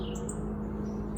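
Little goslings peep softly in short, high chirps while they feed on scattered bird food, close by over a low steady background hum, with no speech.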